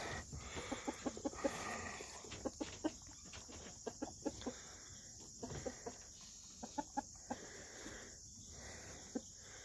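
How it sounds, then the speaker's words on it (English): Several hens cluck and cackle nearby in short scattered bursts while being fed scratch, over a quiet outdoor morning background with faint insect chirping. "Here's our chickens."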